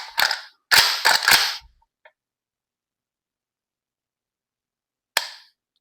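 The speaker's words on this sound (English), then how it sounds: "I have the ALG trigger, and I got to show you guys this trigger." Sharp trigger clicks from an ALG trigger on a Pioneer Arms Hell Pup AK pistol: a few crisp snaps in a quick cluster near the start, then a single click after a long silence, close and alone.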